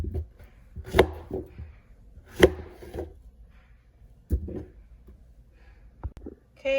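Knife chopping pieces of root vegetable on a cutting board, a few sharp, separate board knocks spaced a second or more apart, close and fairly quiet with soft handling between.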